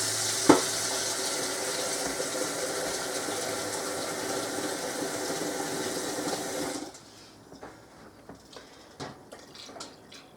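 Steady rush of warm water pouring into a canner for several seconds, then it stops, leaving quiet clinks and small handling noises.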